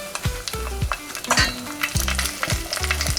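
An egg fries in a stainless steel pot, with a busy, continuous sizzle and popping crackles close up, alongside repeated low tonal scrapes from a wooden spatula.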